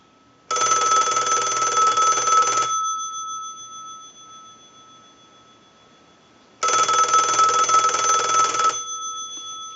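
An old Snoopy and Woodstock novelty telephone bell rings twice in long, loud bursts, with a quiet pause between the rings.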